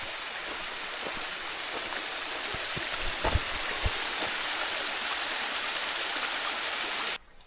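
Vista Creek flowing along the Pacific Crest Trail, a steady broadband rush of water heard close and alone, with a few faint knocks partway through before it cuts off abruptly at the end.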